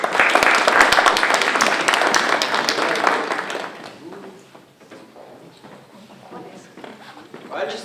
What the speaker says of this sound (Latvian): Aplausi vēlreiz.